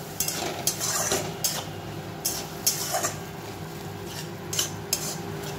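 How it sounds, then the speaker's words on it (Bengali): Ginger masala being stir-fried in a pan with a little water for egg tarka, a run of sharp metal spoon scrapes and clinks against the pan over a low, steady cooking hiss, with no talking. "জল দিয়ে এবার মশলাটা আমি কষিয়ে নেব"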